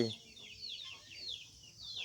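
Backyard chickens clucking in a series of soft, repeated calls at moderate distance, steady and unhurried, with faint background noise and no clear talking.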